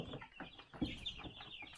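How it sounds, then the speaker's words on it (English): Young yellow chicks and turkey poults cluck and peep softly in a brooder on a farm, a faint, busy chorus of short calls with no talking. "you see a lot of yellow chicks in there"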